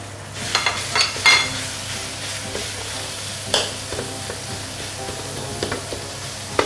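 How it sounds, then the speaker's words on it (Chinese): Minced pork and golden fried garlic cooking in a pan for rat noodles, a steady low sizzle with scattered scraping and stirring knocks, close and moderate, no talking. "这个蒜米啊，金黄色了，我下这个肉碎啊。"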